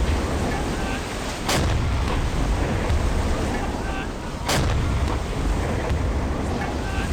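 Deck gun shots fire at a ship in the submarine game Silent Hunter 5, two sharp booming blasts spaced about three seconds apart over a constant wind and sea roar.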